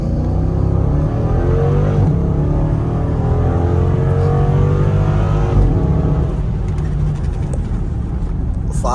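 A 2012 Jeep Grand Cherokee SRT8 in track mode roars loudly up through the revs on a 0-60 launch, its close V8 engine note climbing steadily and holding strong before easing off near the end.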